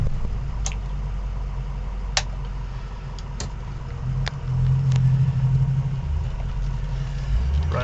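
A 2005 Ford F350 long-bed pickup with 156,000 miles runs steadily, its engine giving a low continuous rumble that swells around the midpoint as if it pulls away, with a few faint clicks along the way.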